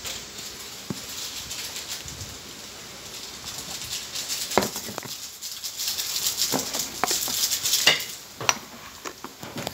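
A pot of linaga, a Filipino boiled dish, cooks with a low steady hiss, while scattered utensil clinks and light taps against the pot sound at an irregular pace.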